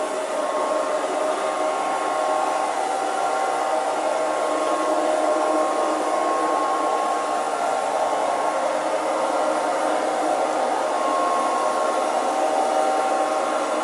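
A Liectroux B3000 robot vacuum cleaner runs on a hard floor, giving off a steady, close motor whir and airy hiss that holds even and unbroken throughout, with no voices.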